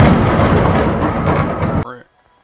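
Loud, dense thunder rumble from the horror video game Nun Massacre rolls steadily for almost two seconds, then cuts off abruptly, leaving near silence with a brief voice-like tone.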